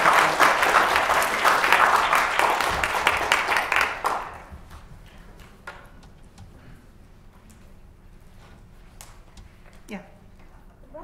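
An audience at a talk applauds with dense, lively clapping for about four seconds, then it thins to a few scattered claps and quiet room noise.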